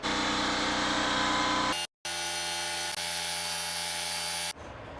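A power tool drives a center shaft with a raw weld at full torque, running loud and steady in two long bursts with a brief gap between them, then cutting off near the end.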